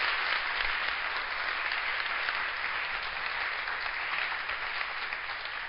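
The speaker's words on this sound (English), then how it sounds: "I would like you to applaud them to be there" Sustained applause from a large conference audience, even and continuous from start to finish.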